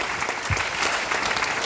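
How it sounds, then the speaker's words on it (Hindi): Applause from a large gathering of women at an Amway inspirational event, dense and steady hand clapping filling the whole moment at close range, with no talk over it. "मैं आप सबके लिए बहुत जोरदार तालियां चाहूंगी"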